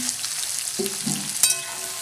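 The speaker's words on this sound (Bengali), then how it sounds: "এবার পেঁয়াজটা আমি ভাজা ভাজা করে নেব, ভালো করে লাল করে একটু ভাজা করে নিয়ে" Chopped onions with a few fresh chillies fry in hot oil for a mutton dish, giving a steady close sizzle with a couple of brief utensil scrapes and stirring knocks.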